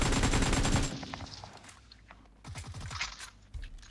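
Gunfire in the mobile battle-royale game PUBG Mobile: a dense, loud burst of rapid automatic shots in the first second, followed by scattered quieter cracks and a short clustered volley near the middle.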